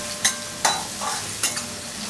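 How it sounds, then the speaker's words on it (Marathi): Finely chopped onion sautés in hot oil in a pan, a low steady sizzle broken by a few sharp scrapes of a spoon stirring, close and alone. "आता जर ह्या तेलावरती दोन ते तीन मिनटं हा चांगलासा परतून मिळतो"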